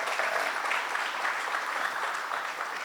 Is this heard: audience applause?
yes